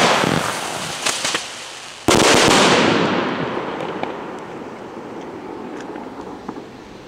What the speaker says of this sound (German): Das nenne ich doch mal eine richtig feine Böllerei.